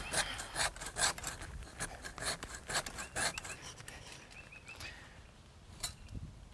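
A hand saw cuts upward through the underside of a large tree branch, with a steady series of raspy back-and-forth strokes, close and moderately loud, that slow and thin out toward the end.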